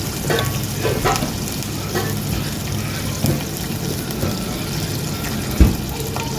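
Garlic and ginger fry in oil in a karahi with a continuous close sizzle, broken by scraping stirs and occasional clacks of the spoon against the pan.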